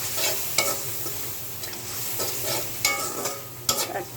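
Garlic paste frying with cumin and other spices in a pan, a continuous close sizzle broken by several sharp scrapes and clinks of a spoon stirring.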